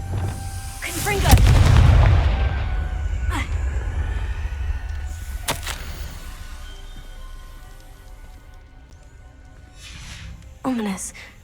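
A Confringo fire spell blasts in the video game Hogwarts Legacy, a loud booming burst followed by a crackling decay, with a couple of sharper later impacts and background game ambience.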